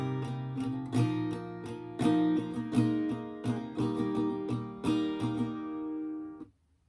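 Acoustic guitar strums the first line of the second verse of a song in a rhythmic pattern of full chords, close and bright, ending abruptly after about six seconds.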